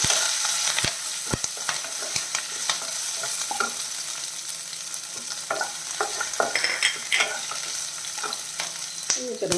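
Chopped green chilli and ginger sauté in a hot pan with a constant bright sizzle, and irregular scraping stirs and light clicks of the spoon sound up close.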